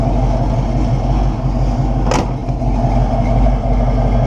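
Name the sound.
1969 Buick Special Deluxe engine and exhaust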